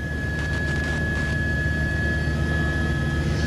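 Constant engine and rotor drone from inside a news helicopter in flight over New York on September 11, 2001, loud and steady, with a thin high whine running across it and no speech.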